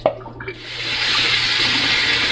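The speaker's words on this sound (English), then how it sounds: "So in my strainer, I'm just going to strain my ground beef now and wash it." Water runs steadily from a kitchen tap over cooked ground beef in a strainer, a continuous hissing splash that starts after a brief clatter and stays loud to the end; no talking.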